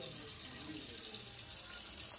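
Water runs steadily from a kitchen tap into a glass, a continuous close hiss and splash heard alone for a couple of seconds.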